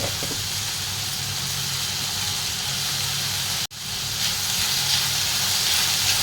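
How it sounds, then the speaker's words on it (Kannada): Tomatoes frying in a pan for dill leaf palya, a steady loud sizzling hiss close by, briefly cut off by a sharp drop midway before resuming. "ಇವಿಷ್ಟನ್ನು ಚೆನ್ನಾಗಿ ಫ್ರೈ ಮಾಡಿದಾದ್ಮೇಲೆ ಇದಕ್ಕೆ ಟೊಮೆಟೊ ಕೂಡ ಆ್ಯಡ್ ಮಾಡ್ಕೊಳ್ತಾ ಇದ್ದೀನಿ"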